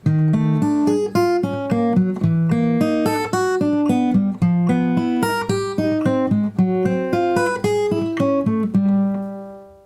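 A fingerpicked acoustic guitar plays a steady, repeating arpeggio pattern on the top four strings over a sustained low note, clear and close with no talking.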